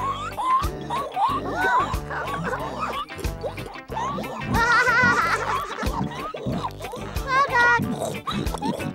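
Cartoon pigs oink and squeal eagerly at breakfast time on a farm, a rapid run of grunts and squeaky snorts mixed with chatter and lively voices.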